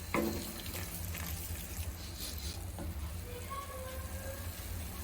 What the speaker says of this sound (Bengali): জাস্ট নাড়াচ্ছি হাতা